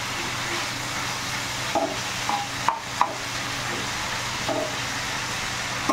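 Chicken fries in a pan with a steady broad sizzle, broken by a few soft clinks and stirring sounds, with no talking.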